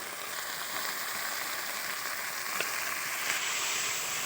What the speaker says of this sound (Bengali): এবার আদা রসুন বাটা দিয়ে দিলাম, পেঁয়াজ বাটা দিয়ে দিলাম, দিয়ে এটা একসঙ্গে ভালো করে ভেজে নেব।